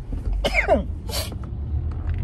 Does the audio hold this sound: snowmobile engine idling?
no